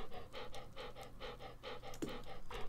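A dog pants in the farming game Stardew Valley with quick, steady, rhythmic breaths in a continuous run. The panting is soft and close, with a brief click partway through.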